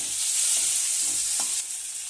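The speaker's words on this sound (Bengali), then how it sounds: "এবার টমেটো কুচিগুলো দেওয়া হলো, দিয়ে ভালো করে ভাজা হচ্ছে।" Chopped tomatoes fry in a wok with garlic and ginger for a spicy fish curry, producing a steady close sizzle with a few soft stirring scrapes and no talking.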